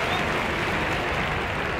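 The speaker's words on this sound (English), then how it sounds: "For the applause of the Detroit fans." Steady roar of crowd applause and cheering in a baseball video game, a dense continuous wash of noise with no clear breaks, fairly close and even in level.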